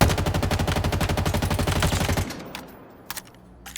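Rapid automatic weapon fire in the Halo Infinite video game, a loud sustained burst of evenly spaced shots that stops abruptly, followed by a couple of faint clicks.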